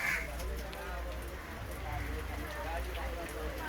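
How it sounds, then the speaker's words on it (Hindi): Soft, steady patter of falling rain with a low background rumble and a faint voice underneath. "देखिए बारिश हो रही है"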